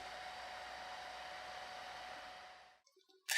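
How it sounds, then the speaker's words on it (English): A hair dryer heating Nitinol wire blows with a steady whooshing hum for nearly three seconds, then cuts off, followed by a few faint clicks and a sudden noise. "When I heat it with a hairdryer"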